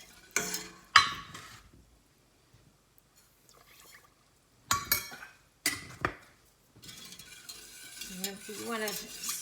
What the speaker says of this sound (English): You want to stir that well, whisk it well, get the sugar off the bottom